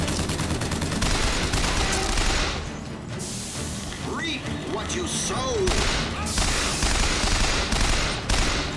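Rapid bursts of BioShock Infinite gunfire crackle in dense volleys, with a brief lull midway before the shooting resumes loud and close, mixed with game effects.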